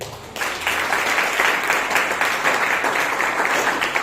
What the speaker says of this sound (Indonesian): Yang setuju berikan tepuk tangan begitu.